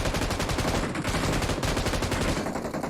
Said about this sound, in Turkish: önüm arkam girecek buna öyle bir silah sıkıyorum